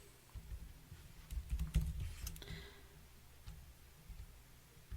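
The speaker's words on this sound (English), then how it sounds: "while I'm doing this bit of typing" Computer keyboard typing, a quiet cluster of soft key clicks bunched around the middle, then a few scattered taps fading into a low hum.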